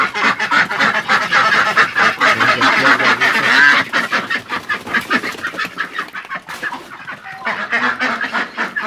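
A flock of chickens clucks and squawks close by, with overlapping calls from several birds in a busy, continuous chorus that thins slightly toward the end.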